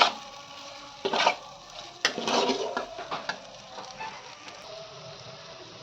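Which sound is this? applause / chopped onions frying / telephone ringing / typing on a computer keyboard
chopped onions frying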